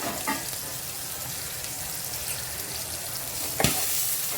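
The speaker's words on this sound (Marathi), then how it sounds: "झाकण ठेवायचं आहे नाही असं फटफट उडत राहतं अंगावर हातावर उडू शकतं" Chicken fries in oil with a steady, dense sizzle, a few louder pops and spatters breaking through, including a sharp burst near the end.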